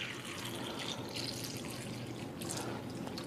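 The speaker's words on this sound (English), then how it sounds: "So we're just going to simulate that by pouring some tap water in here." Tap water pours steadily into a container for rinsing food, a continuous close splashing rush with no voices.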